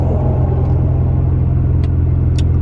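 A car pulls away gently, its engine a steady, loud low rumble that builds only slightly with no hard revving, plus a couple of faint high ticks near the end.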